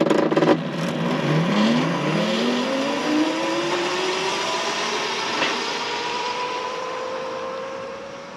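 A modified mobility scooter driving flat out at top speed, its electric drive whining steadily upward in pitch as it accelerates, close and continuous with no talking.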